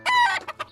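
A chicken clucks in an indie video game, a short, clear, close burst of a drawn-out squawk followed by two quick clucks, with no other sound around it.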